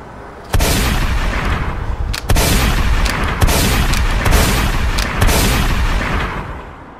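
Pistol gunfire erupts in a loud, sharp burst followed by several more rapid cracks over a sustained rumbling roar, close and dense, with no voices.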